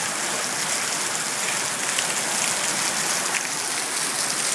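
Heavy rain pours down during a storm in Marian, Queensland, in a dense, steady hiss, loud and unbroken from start to finish with no voices.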